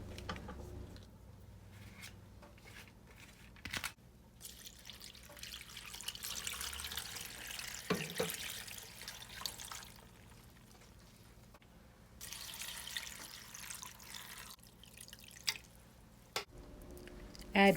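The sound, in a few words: water poured into a large pot of chopped greens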